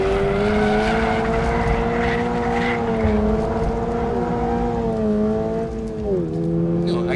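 A Toyota GR86 on Michelin Pilot Sport 4 tyres sliding on track, engine droning steadily with shifting pitch and a thin tyre squeal over it, loud and continuous throughout.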